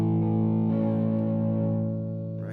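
An electric guitar rings out a single distorted triad chord, struck once and left to sustain, its thick buzzing tone slowly fading over a couple of seconds.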